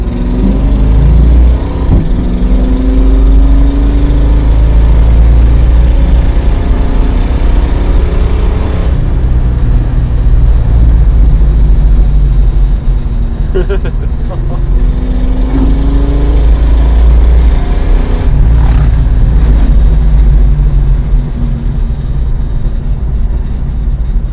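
A 390 hp Plymouth Road Runner muscle car's engine runs continuously and loudly from inside, a deep throbbing drone with rising and falling revs as it pulls, no voices heard.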